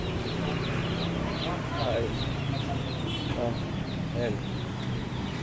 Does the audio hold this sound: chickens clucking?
yes